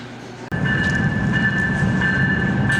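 The Portland section of Amtrak's Empire Builder passenger train rumbles in loudly and steadily, with a sustained high metallic whine over heavy low rolling noise.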